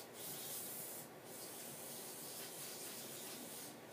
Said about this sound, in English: So I'm just going to spray it with brake cleaner and get it nice and clean real quick.